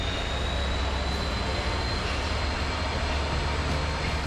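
A Class 66 diesel locomotive departs, its engine a steady, dense drone under a faint high whine, heard continuously at moderate volume.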